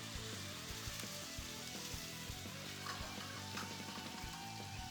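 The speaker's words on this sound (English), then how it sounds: "So a nice hot pan, some canola oil or other vegetable oil, and we're just going to start searing that" Meat searing in a hot pan with canola oil, a constant close crackling sizzle with scattered spitting pops, steady and fairly quiet throughout.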